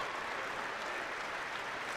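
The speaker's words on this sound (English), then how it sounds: "Big round of applause." A crowd at a state high school boys basketball championship game applauds steadily in a large gym, giving an even, moderately loud wash of clapping that lasts throughout.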